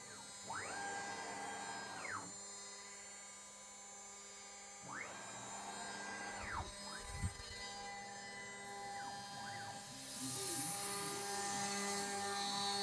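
A CNC router spindle running at 12,000 RPM fitted with a mist coolant system, giving a steady high-pitched whine with repeated rising and falling sweeps as it cuts, plus a brief thump and a hiss of coolant mist near the end.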